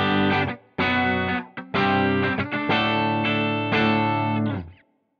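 Clean electric guitar chords run straight into a ThorpyFX Gunshot overdrive pedal and an amp on its clean channel with a touch of reverb, played as several ringing strums with short gaps, loud and close.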